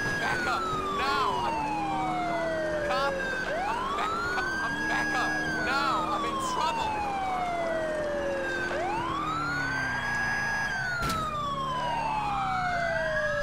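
Police sirens wail in the video game GTA IV, several overlapping sweeping tones rising and falling continuously over a steady engine rumble, loud and close throughout.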